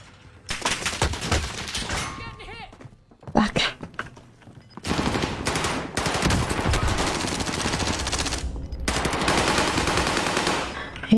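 In a video game, a gun fires in long rapid automatic bursts, loud and close, broken by short pauses, with brief gaps of quieter sound between volleys.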